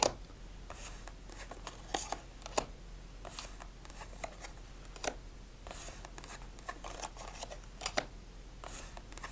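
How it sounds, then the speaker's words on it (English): Playing cards from the Sakura Deck are handled and shuffled during a solitaire game, with soft crisp riffles and snaps recurring irregularly over a faint hiss, close and quiet with no talk. "move on to our victory shuffle"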